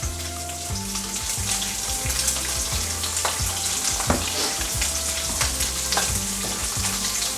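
Bologna slices fry in a pan, giving a loud, steady close sizzle and crackle with scattered pops and occasional scraping or knocking sounds from the cookware.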